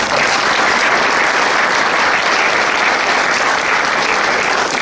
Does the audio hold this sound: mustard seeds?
no